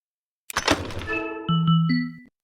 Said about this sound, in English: Load the cannon using a cannonball from the stack on the right.